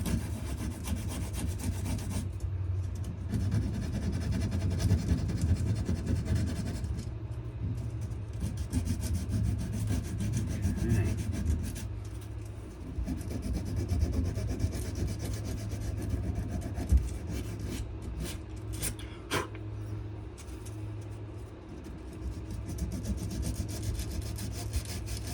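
Close, rhythmic hand rubbing of sandpaper over a wooden knife handle, strokes coming in uneven bursts with short pauses and a few small knocks.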